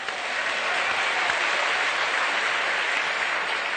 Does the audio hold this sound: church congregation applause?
yes